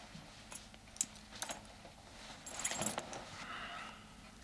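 Small metallic jingles and clinks from handled keys, scattered in short bursts over a quiet background, louder near the middle.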